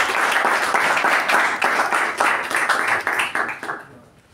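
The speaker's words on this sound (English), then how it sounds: "can we have a huge round of applause for us?" Meeting audience gives a round of applause: loud, dense clapping with distinct hand strikes that keeps going for several seconds, then thins out and fades near the end.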